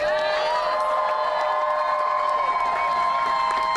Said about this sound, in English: if we can first have a round of applause for the Starbucks workers themselves